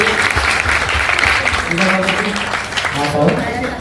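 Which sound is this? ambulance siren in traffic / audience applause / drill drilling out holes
audience applause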